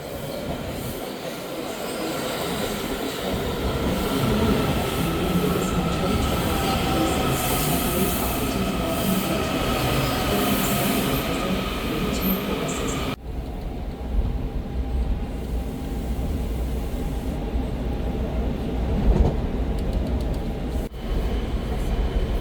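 A Washington DC metro train runs at East Falls Church with a loud continuous rumble, squealing wheels and rail clatter, close and steady throughout.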